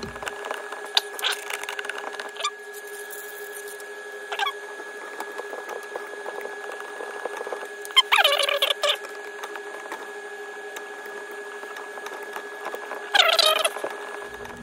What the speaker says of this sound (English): put pressure on this into this same direction that I'm trying to screw it in until it pierces the aluminum and screws in